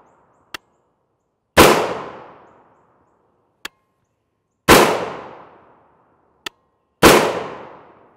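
A rifle firing 5.56x45mm 55gr FMJ M193 ammunition in three loud, sharp reports, each with a ringing decaying tail, spaced a few seconds apart, with faint clicks in between.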